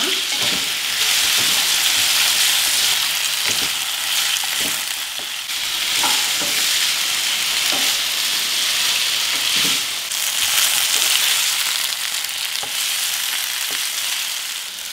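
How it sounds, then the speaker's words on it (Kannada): Potatoes frying in a pan of oil for a potato fry, a loud, continuous sizzle with occasional clicks of stirring running throughout, close up and with no talking. "ಈ ಆಲೂಗಡ್ಡೆ ಫ್ರೈ ಮಾಡಲಿಕ್ಕೆ ಜಾಸ್ತಿ ಎಣ್ಣೆನೂ ಹಿಡಿಯೋದಿಲ್ಲ. ಇದು ಈ ಎಣ್ಣೆಯಲ್ಲೇ ಚೆನ್ನಾಗಿ ಫ್ರೈ ಮಾಡಬೇಕು, ಒಂದು 3 ರಿಂದ 4 ನಿಮಿಷ"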